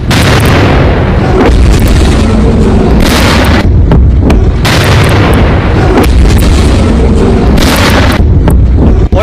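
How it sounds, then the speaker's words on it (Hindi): Iranian missiles exploding on an Israeli airbase: very loud, continuous blasts and rumbling booms in repeated waves, heavy and close. "एक के बाद एक मिसाइल हमले हुए इस एयरबेस पर।"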